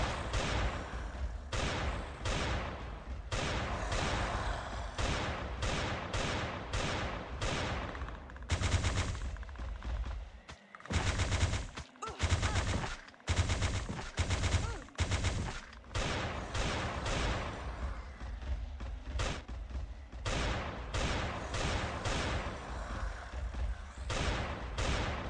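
Rapid bursts of weapon fire in the survival game Last Day on Earth, dense trains of loud shots in quick rhythm with a few brief pauses, continuing throughout.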